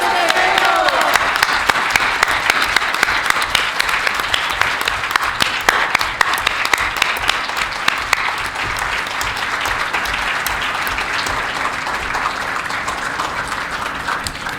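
An audience at a gathering on disappearances in Mexico gives a long, sustained round of applause for the families of the disappeared, dense clapping with occasional sharp louder claps and crowd voices beneath.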